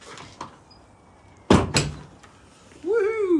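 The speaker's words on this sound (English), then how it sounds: "when we click this handle here down, does the clamshell open?" The roof clamshell on a Mercedes R107 soft top releases with a dull mechanical clunk followed by a second knock, set in a quiet garage, and a voice then whoops loudly afterwards.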